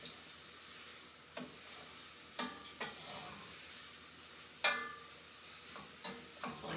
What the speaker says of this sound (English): So I just kind of stir it around and get it so it softens it up and tenders it up a little bit.